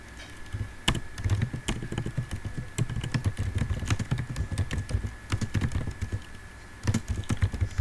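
JavaScript code being typed on a computer keyboard, with steady, rapid, close key clicks over a low background hum and a short pause before the typing resumes.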